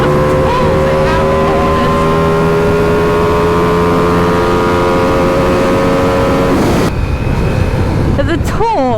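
A 2025 Ducati Panigale motorcycle accelerates hard out of corners, its engine note climbing steadily in pitch for several seconds under wind roar, then dropping abruptly as revs fall and pick up again.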